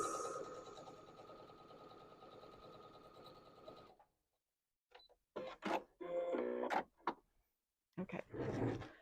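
A sewing machine stitches quilt pieces together with a quarter-inch seam, running steadily and fairly loud for about four seconds before stopping, followed by brief handling noises and rustling of fabric.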